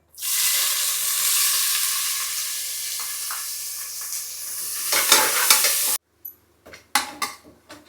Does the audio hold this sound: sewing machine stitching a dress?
no